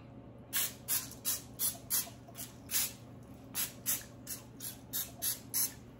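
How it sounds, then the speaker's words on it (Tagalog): Repeated short bursts of cooking spray from a can over moist banana muffin batter, about a dozen quick hissing puffs in an uneven rhythm, close and fairly loud over a low steady hum. "I will spray"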